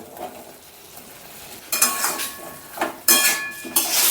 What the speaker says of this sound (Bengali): বেশ সুন্দরভাবে এটা কষিয়ে নিচ্ছি একটু কচু ওল এখানে দিয়ে দিয়েছি